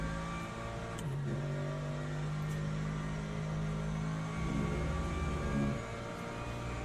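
A Corvette race car engine drones steadily in the rainy racing game Le Mans Ultimate, holding a buzzing tone that shifts pitch a few times as it revs and eases, heard alone without talk.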